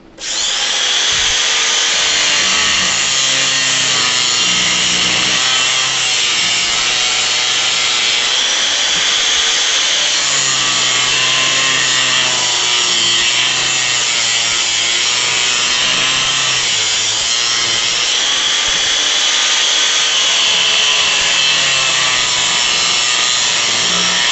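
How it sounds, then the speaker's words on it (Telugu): A grinding machine cutting through the coils of a washing machine spin motor gives a continuous loud, harsh whine with abrasive rasping that holds steady for the whole stretch, close up and with no talk. "ఇక్కడ నేను గ్రైండింగ్ మిషన్ సాయంతో కట్ చేస్తున్నాను"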